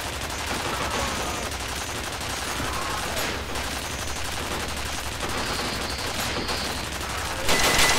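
Automated gun turret firing in the shooter F.E.A.R. Files, a steady stream of rapid shots rattling nonstop, close and loud, with a brighter burst at the very end.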